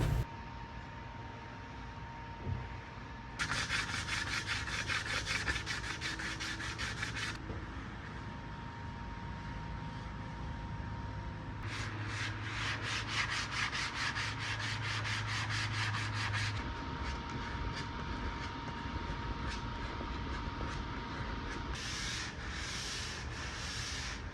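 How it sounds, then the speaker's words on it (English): Steady back-and-forth hand sanding of wood with 150-grit sandpaper on a 1980s table, a close, dry rasping rub in long rhythmic bursts separated by short pauses. "finished with the 150 grit sanding by hand"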